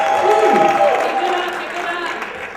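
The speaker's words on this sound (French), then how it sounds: "Je vous demande d'applaudir plus fort" Applause and crowd noise at an African cultural evening, a sustained wash of clapping beneath a voice talking over it throughout.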